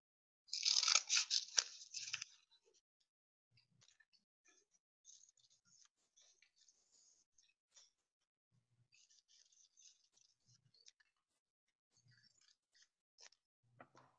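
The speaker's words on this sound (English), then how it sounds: "I'm going to take my scissors and cut on those lines." Scissors cut folded accordion paper along drawn shape lines: a quick run of crisp, close snips at the start, then scattered faint clicks and small paper rustles in a quiet room.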